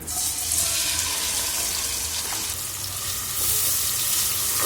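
Chopped onions frying in oil for a restaurant-style mutton masala curry, a steady close hiss of sizzling that runs unbroken for the whole stretch with a faint watery edge and no voices.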